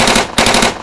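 A voice mimicking rapid gunfire, a loud, close burst of rattling mouth noises lasting under a second with a short break partway through.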